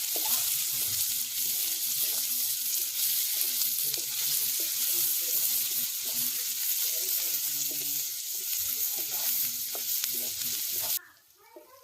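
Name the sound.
onion frying with garlic and being stirred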